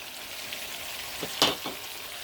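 A paste of garlic, dried red chilies, onion and ginger for lamb curry hits hot oil, with a soft background hiss and a sharp sizzle burst near the end, joined by a couple of quick stirring scrapes.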